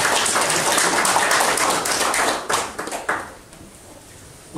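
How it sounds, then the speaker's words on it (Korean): An audience at a disability sports policy workshop claps in a brisk, fairly close burst that thins into a few scattered claps and fades out. "이게 잘하는 것은 박수 한번 쳐주시고."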